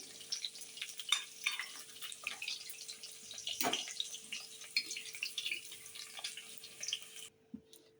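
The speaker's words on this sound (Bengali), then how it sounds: "জিরা ফোড়ন দিয়ে আলুগুলো ভেজে নিয়েছি ভালো করে" Potatoes frying in oil tempered with cumin seeds for a cauliflower and katla fish curry, a steady close crackle with occasional stirring clicks, fading out near the end.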